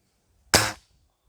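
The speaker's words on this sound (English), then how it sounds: "Usually the first couple of shots would be just warm up shots." A single sharp crack from a spring-piston air rifle fitted with an SDB Xena scope, close and loud and then quickly fading, set against an otherwise quiet background.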